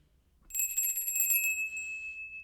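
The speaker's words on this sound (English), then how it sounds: "My chakra grounding bell." A chakra grounding bell is struck once, giving a bright, clear ring that sustains and slowly fades, near and alone in an otherwise quiet space.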